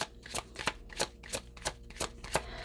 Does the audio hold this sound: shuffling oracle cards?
yes